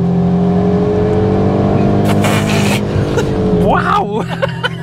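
A SEAT Leon Cupra ST, a 300-horsepower estate, accelerates hard with a loud, steady engine roar rising in pitch, then a gear change and renewed revving near the end, heard from inside the car.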